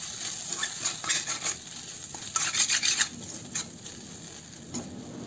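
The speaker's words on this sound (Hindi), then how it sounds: "हल्दी को इसमें डाल देंगे और लगातार इसको चलाते हुए भून लेंगे।" Raw turmeric being stirred and roasted in a pan, giving soft scraping and rasping strokes with a light sizzle, steady and close, with no voices.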